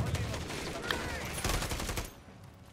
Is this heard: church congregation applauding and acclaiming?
no